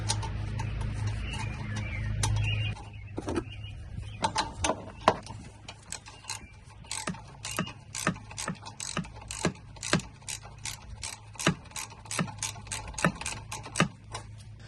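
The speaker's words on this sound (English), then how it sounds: "Now that you have these 2 bolts tightened down" Ratchet wrench tightening the battery hold-down bolts on a third-generation Toyota RAV4, a rapid run of sharp, close metallic clicks in an uneven rhythm, with a low engine-bay hum underneath and no talking.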